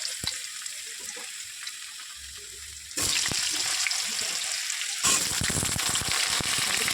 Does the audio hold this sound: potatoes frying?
yes